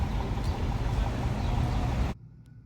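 New York city traffic rumbles in a dense, continuous wash of vehicle noise that cuts off abruptly just before the end, leaving near silence.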